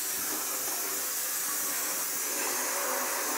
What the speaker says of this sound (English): Turn that vacuum on.